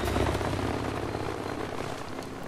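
A helicopter in Battlefield 3 fills the scene with a loud, dense rotor roar and engine drone, steady and close throughout with no voices over it.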